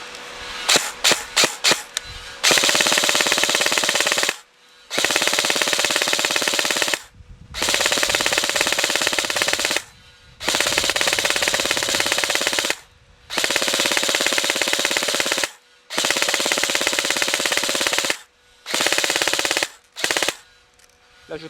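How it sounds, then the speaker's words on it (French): Tokyo Marui airsoft M4 rifle with a twin drum hi-cap magazine dry firing, a loud sustained full-auto buzz in repeated bursts of about two to three seconds each, with short gaps between, preceded by a few quick single shots. "Là je tire à vide, je suis à 129 billes."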